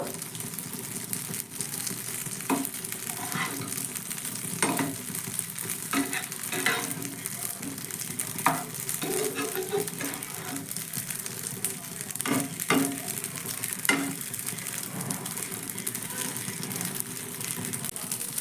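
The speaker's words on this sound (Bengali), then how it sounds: "এগুলো উল্টে পাল্টে একটু ভেজে নেব" Food sizzles and crackles steadily in a hot pan, with occasional scraping and stirring knocks, continuous and close.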